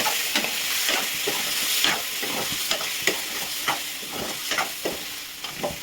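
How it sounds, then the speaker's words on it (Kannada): Palak with brinjal frying in hot oil while being stirred: a steady, close sizzle and hiss runs throughout, broken by repeated scraping and stirring taps in an uneven rhythm, with no talking. "ಎಣ್ಣೆಯಲ್ಲಿ ಇದು ಒಂದು ಸ್ವಲ್ಪ ಫ್ರೈ ಮಾಡಿ ತೆಗಿತೇವೆ"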